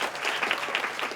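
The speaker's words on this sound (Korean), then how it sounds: "감사의 박수 보내면서 시작했습니다" An audience at a meeting about homelessness gives a short burst of applause in thanks, dense and steady clapping from a small room crowd.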